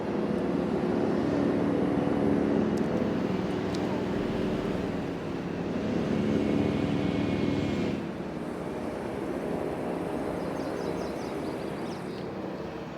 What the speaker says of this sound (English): I can hear the helicopters, but I can't see them.